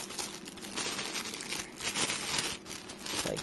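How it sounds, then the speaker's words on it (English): Plastic dust bag around a Canon Rebel EOS T3i camera crinkles during unboxing, close continuous rustling with small swells, no talk. "Plastic bag to keep the dust out."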